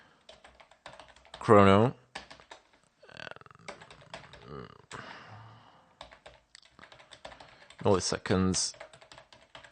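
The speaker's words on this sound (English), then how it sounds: "let's go ahead and type in std" Computer keyboard typing comes in short clustered bursts of key clicks, close and fairly quiet, alternating with someone speaking between the bursts.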